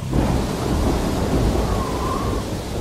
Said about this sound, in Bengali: আবার চুপ চুপ করে বৃষ্টি পড়তে শুরু করেছে